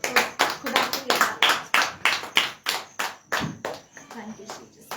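Church congregation at a Sunday service clapping together in thanks to God, a loud, rhythmic run of sharp claps at a brisk even pace, thinning toward the end as a few voices are heard.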